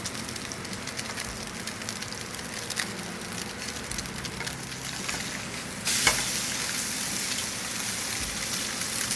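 Blackened calico bass frying in a non-stick pan, a steady close sizzle and crackle throughout that grows louder and brighter toward the end.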